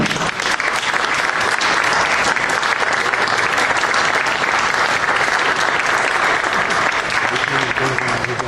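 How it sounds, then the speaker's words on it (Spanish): Loud, sustained applause from a film festival audience honoring director Carlos Reygadas at a press conference, dense clapping that stays even from start to finish. "Yo les pido un aplauso, por favor,"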